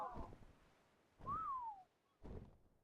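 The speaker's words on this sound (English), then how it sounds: "the whistling is definitely going to get annoying" A single rising then falling whistle sounds in the game Ark Survival Evolved, clear and alone between soft thuds of in-game movement.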